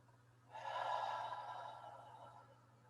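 A single long, breathy exhale during a breathing exercise with head rotation, close and soft, fading slowly after a sharp start over a steady low hum.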